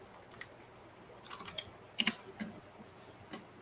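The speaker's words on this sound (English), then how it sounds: "So we'll type in Gemini." Typing on a computer keyboard during a livestream, a short run of soft clicks ending in a louder cluster of keystrokes, close and alone over quiet room tone.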